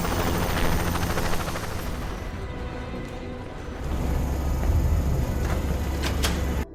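A loud, steady helicopter roar with beating rotor noise that fills the whole stretch without pause.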